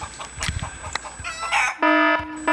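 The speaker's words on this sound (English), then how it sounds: "If you're into turkeys that sound like chickens" Clucking that sounds like a chicken, a few short close calls in a kitchen where a Christmas turkey is being prepared, followed by steady electronic tones.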